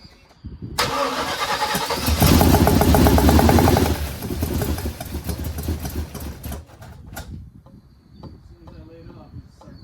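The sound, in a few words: 1979 Chevrolet Malibu engine starting and revving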